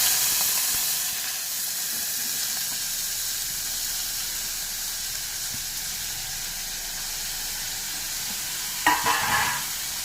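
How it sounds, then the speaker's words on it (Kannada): Bitter gourd fries in about three spoons of hot oil, giving a steady close sizzling hiss throughout, with a few faint utensil knocks near the end and no talking. "ಒಂದು 3 ಸ್ಪೂನ್ ಎಣ್ಣೆ ಹಾಕ್ಕೊಳ್ಳಿ. ಎಣ್ಣೆ ಕಾದ ನಂತರ ತೊಳೆದಿಟ್ಟಿರೋ ಹಾಗಲಕಾಯಿ"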